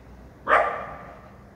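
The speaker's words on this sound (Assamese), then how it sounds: "পিছদিগিৰ পৰা ভুকি আহি আছে গাইজ" A dog barks once from behind on a late-night street in Guwahati. The single sharp bark is fairly close and trails off quickly against quiet surroundings.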